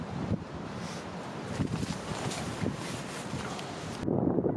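Wind gusts against the microphone in low rumbling buffets at a lakeside carp fishery in February, steady with a few stronger pushes, no voices.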